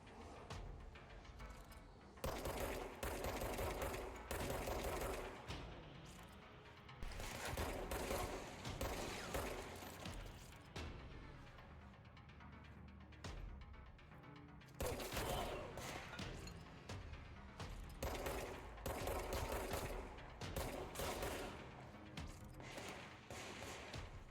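Rapid, loud bursts of automatic gunfire from the video game Control, firing in long sustained volleys with short gaps between them and mechanical clatter in the pauses.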